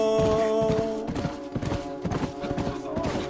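Horse hooves clip-clop in The Last of Us video game, a rhythmic run of fairly loud, close thuds under steady tonal music, with the hoofbeats repeating at an even trotting pace.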